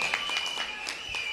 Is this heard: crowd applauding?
yes